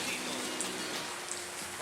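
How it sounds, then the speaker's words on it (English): Light rain falls during an early morning walk on the Camino to Santiago, a soft steady patter of drops with a faint low hum beneath. "there's a light rain here, which will add a little character to our walk today"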